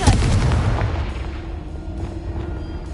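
A Confringo blast spell explodes in the Hogwarts Legacy video game, a loud close boom at the start that rumbles and fades over the next few seconds.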